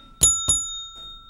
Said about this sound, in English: Hold on, ding the bell, Danny.